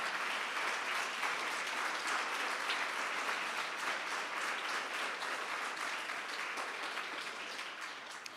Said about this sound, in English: Let us give our staff members a big round of applause.